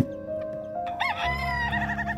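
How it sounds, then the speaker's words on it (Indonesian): A small Serama rooster crows loudly and close by, its call rising and wavering over a steady background hum, with a few short clucks just before. "ini namanya ayam serama"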